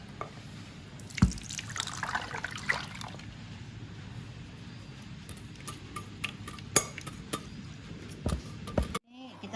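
Green liquid for es pisang ijo is poured into a cooking pot, producing soft trickling and dripping with scattered clinks and knocks, fairly quiet, ending in a sharp cutoff.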